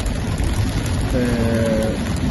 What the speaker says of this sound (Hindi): तो बड़ी तेज बारिश भी लगी है